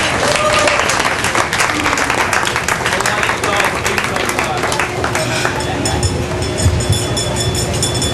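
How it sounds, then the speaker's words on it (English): Wedding guests applaud the couple in a steady wash of clapping from a sizable crowd, close and loud, mixed with chatter and background noise throughout. "So I would give them a round of applause for doing that."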